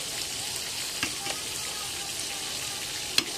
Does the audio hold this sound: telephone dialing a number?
no